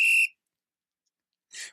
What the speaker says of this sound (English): I think the referee has his whistle to his lips.